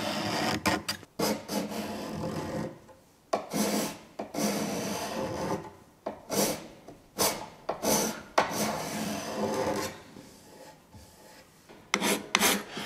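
A steady series of rasping strokes from a card scraper shaving wood, each a short gritty pull, repeating in an uneven rhythm close by with brief pauses between passes.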